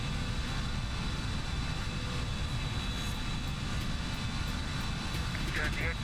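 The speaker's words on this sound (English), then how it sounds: "This freaking plane is so darn loud" Toliss A319 airliner engines in X-Plane 11, a steady loud broadband roar with a constant drone throughout, filling the cabin with no break.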